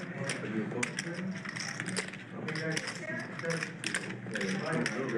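Poker player shuffling 5,000 chips at a high-stakes cash game table, a rapid rattling clicking in repeated bursts, close, running under a commentator's talk.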